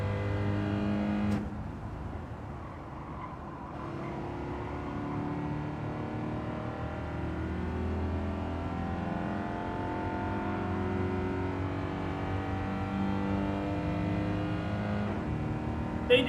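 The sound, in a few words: race car engines in Gran Turismo 7 video game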